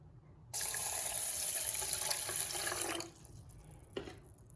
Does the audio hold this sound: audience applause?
no